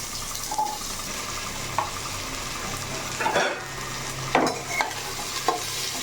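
Potatoes, a large chopped onion and vegetables fry together in a pan over a gas flame, giving a steady close sizzle with occasional stirring scrapes and clatter.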